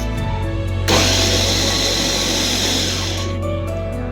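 A Wonderchef Nutri-Blend blender grinding a quartered onion starts up abruptly with a loud, dense whirring roar that holds steady for about two and a half seconds before spinning down, a low motor hum running throughout.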